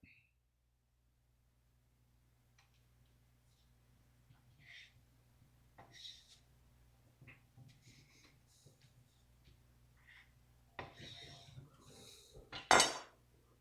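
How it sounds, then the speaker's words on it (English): A new knife slices through an oven-baked brisket, giving soft scattered cutting and scraping sounds. Light clinks against the board build toward louder knocks near the end, in a quiet kitchen. "This knife cuts through this brisket with ease."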